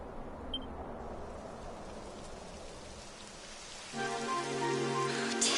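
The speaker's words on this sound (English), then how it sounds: "It would have to go and start raining, wouldn't it?" Rain falls in Dragon Quest XI as a soft, steady hiss for several seconds, then a brighter tonal game sound rises over it near the end.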